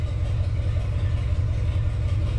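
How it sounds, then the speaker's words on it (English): A stock farm truck's carburetted engine, fitted with a boost setup, idles at about 700 RPM, a steady low throbbing rumble heard close and alone with no change in pace. "Idling pretty good, 700 RPM, 15 inches of vacuum, 16 degrees of timing"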